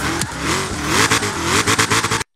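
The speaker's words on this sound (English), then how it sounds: "It's a clip of me playing Forza, and you can tell there's audio." A car engine in the racing game Forza revs hard and loud, rising and falling through several throttle bursts during drifting before cutting off abruptly.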